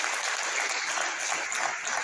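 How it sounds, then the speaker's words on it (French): A crowd applauds at a national dissertation contest award ceremony, a dense, continuous burst of clapping that stays even and fairly loud throughout. "Demandez 30 secondes pour applaudir."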